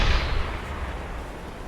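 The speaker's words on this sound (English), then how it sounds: "I'm pretty good at firing this deck gun." A U-boat deck gun in the submarine game UBOAT fires a single heavy, booming shot, loud and close, its blast rolling off into a fading rumble.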